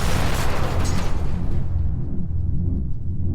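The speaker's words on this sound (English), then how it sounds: "Then there was a tremendous, horrible sound, like an explosion, a crash, like thick metal shattering." A loud, deep explosive crash like thick metal shattering, a heavy rumbling boom that roars at first and then decays into a low, fading rumble.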